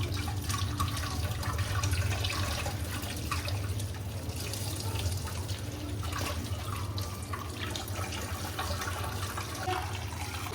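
Bathua greens being washed under a running kitchen tap for raita, a steady continuous splash and trickle of water with faint drips, moderately close and without speech.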